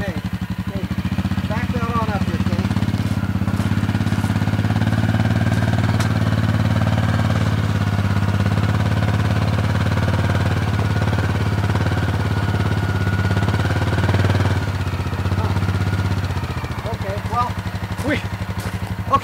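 A Suzuki King Quad 750 ATV engine drones steadily and loudly while climbing a ramp with the swaybar removed, holding a constant low rumble for most of the run before easing near the end; a person speaks briefly.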